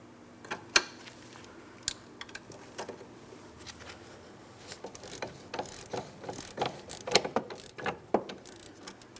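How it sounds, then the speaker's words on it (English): Socket ratchet loosening the sway bar link mounting nut on a 2004-2008 Pontiac Grand Prix front strut, quick irregular bursts of sharp clicking pawl ticks, close and fairly quiet against a faint background hum. "we can continue removing this mounting nut"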